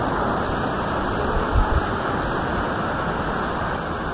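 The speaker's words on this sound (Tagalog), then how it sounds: "Ang lakas ng tubig" A powerful waterfall on Mount Kabunian roars as a steady, broad wash of rushing water, constant and loud from start to finish with no pauses.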